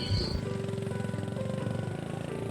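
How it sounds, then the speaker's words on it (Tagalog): A habal-habal motorcycle taxi engine drones steadily and close while riding, with a buzzing, pulsing tone and no pauses. "Nakasakay po ako rito sa habal-habal."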